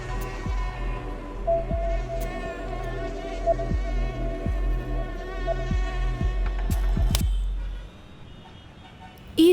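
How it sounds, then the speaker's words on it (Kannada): A mosquito's thin, whining buzz hums steadily and close for about eight seconds, with faint rhythmic ticking beneath, then cuts off abruptly, leaving near quiet. "ಈ ಸೊಳ್ಳೆ ಏನು ಇಷ್ಟು ಚಿಕ್ಕದಾಗಿದೆಯಲ್ಲ?"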